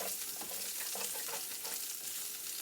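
Carrots and onions cook in a pot with a dense, continuous sizzle, hissy and even, close by and steady with no voices.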